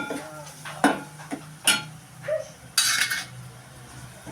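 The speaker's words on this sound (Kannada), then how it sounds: "ಗರಂ ಮಸಾಲ ಪುಡಿ, ಸ್ವಲ್ಪ ಜೀರಾ ಪುಡಿ ಹಾಕ್ಕೊಂಡ್ಬಿಟ್ಟು ಸ್ವಲ್ಪ ಚೆನ್ನಾಗಿ ಫ್ರೈ ಮಾಡೋದು" Masala frying in a pan with garam masala and cumin powder, heard as a soft sizzle under scattered sharp clinks and scrapes of a spoon stirring against the vessel.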